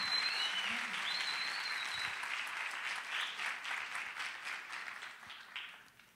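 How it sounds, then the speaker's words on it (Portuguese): Audience applause at a Portuguese-language financial coaching talk, a dense steady wash of clapping with a few whistles near the start, holding strong before thinning out toward the end. "Palmas para esses dois gênios."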